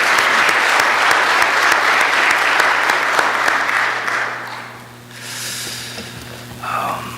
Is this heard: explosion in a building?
no